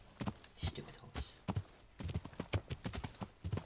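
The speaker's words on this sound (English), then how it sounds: "I know you can jump this fence, horse. You can do it!" Horse hooves clip-clop at a steady trot in the medieval game Kingdom Come: Deliverance, a close run of rhythmic knocking beats with no talk over them.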